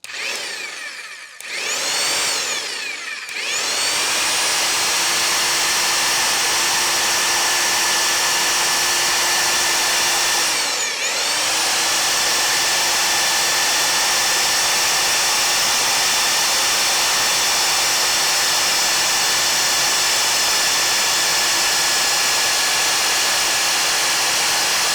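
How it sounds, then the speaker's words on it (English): Electric earth auger drilling a fence post hole, a steady loud motor whine running continuously after a few brief starts and stops near the beginning, with one short pause midway before it resumes. "I then grabbed my electric earth auger to dig up a new post hole"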